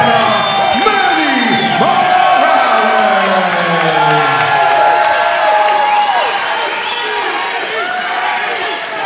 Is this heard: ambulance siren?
no